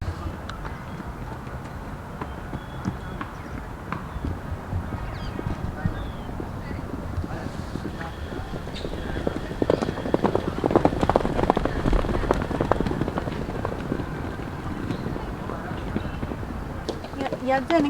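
Horses trot in when a man calls them, their hooves clip-clopping in a quick, steady patter that grows slightly louder midway, with people talking over it.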